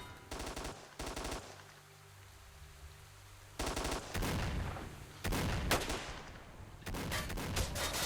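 Gunfire in S.T.A.L.K.E.R. Shadow of Chernobyl with the OGSE mod: several loud bursts of rapid automatic fire separated by short quiet gaps, no voices.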